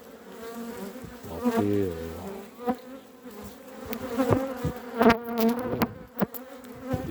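Honeybees buzz steadily and close around an open apiary hive in a chestnut-tree bee yard in summer, a dense droning swarm with a brief spoken word over it.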